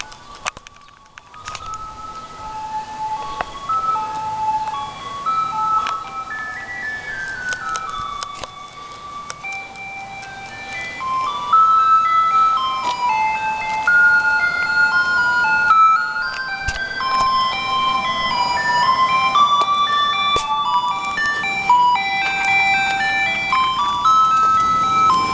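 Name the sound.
ice cream truck playing its jingle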